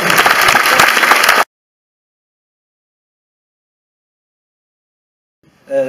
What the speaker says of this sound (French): Je vous demande d'applaudir Anne Boissel,